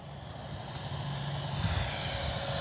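An Arrows Avanti S 50mm electric ducted fan model jet flying on 4S and 3S batteries, its whine and rush steadily building as the throttle is pushed up, loud and continuous with no voices.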